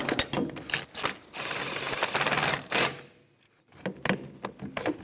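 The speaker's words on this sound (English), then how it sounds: "That's a 17mm socket. we're going to take that and snug it up." A ratchet with a 17mm socket snugs up a bolt on a 2013-2018 Toyota RAV4 during parking brake shoe hardware work: rapid close clicking in bursts, pausing briefly before resuming, with no voices.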